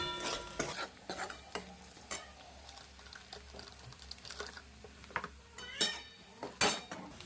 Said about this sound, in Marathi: व्यवस्थित मिक्स करून घ्यायचं आहे लाल तिखट